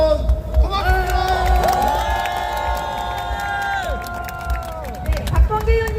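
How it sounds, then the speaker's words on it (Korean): A large crowd cheers and whoops at an opposition parties' joint national rally, loud sustained shouting with prominent harmonic voices rising and falling over steady crowd noise for the whole stretch. "다시 한번 뜨거운 박수와 함성 부탁드립니다."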